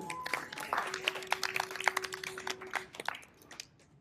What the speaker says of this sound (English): let's give a big round of applause for Joel